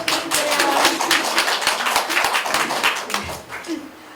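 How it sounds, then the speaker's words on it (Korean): Audience applause at a Korean poetry-and-song stage performance, dense rapid hand clapping from a group that holds steady for a few seconds and then thins out. "박수 한번 부탁드릴게요."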